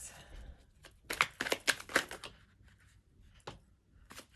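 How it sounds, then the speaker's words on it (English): Tarot cards shuffled and drawn in several quick riffling bursts, a close cluster of crisp flutters followed by a couple of isolated flicks, with no talk over them. "Way too many cards. We're just gonna draw again."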